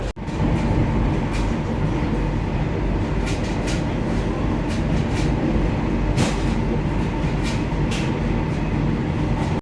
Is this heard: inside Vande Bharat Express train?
yes